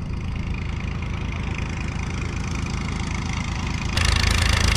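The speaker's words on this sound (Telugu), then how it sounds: "ఇక్కడ మనం చూసినట్లయితే 2 భారీ మోటార్ల సహాయంతో నీటిని అయితే తోడిపోసే ప్రక్రియ అయితే కొనసాగుతూ ఉంది" Two heavy motors run continuously at a construction site for tower foundations, pumping water out in a loud, even drone that grows slightly louder near the end.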